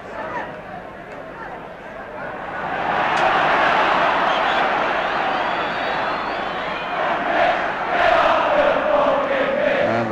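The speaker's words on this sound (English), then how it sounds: "And the crowd, in no uncertain terms, telling him to get off the pitch" Big football crowd at a Liverpool v Everton match, the Kop jeering and roaring at a player in a sustained swelling din that peaks midway and again near the end.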